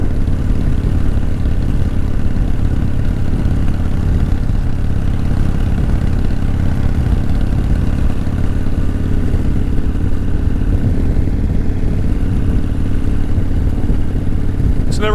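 A vintage Harley-Davidson Softail motorcycle engine running steadily, a loud, close, continuous low rumble with an even lumpy beat throughout.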